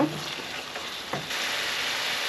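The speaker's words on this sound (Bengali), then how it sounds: "এটাকে আস্তে আস্তে আমি কষিয়ে নেব" Hilsa and brinjal curry sautés over medium heat in a pan, a loud dense continuous sizzle with a couple of quick stirring scrapes.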